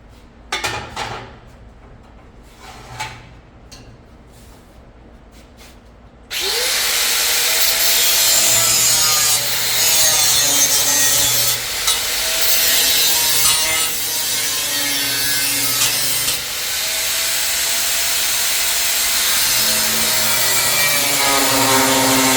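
A 1955 Pontiac rear bumper is notched with a power cutting tool, a loud continuous grinding rasp that starts abruptly after a few soft knocks and runs steadily for about sixteen seconds.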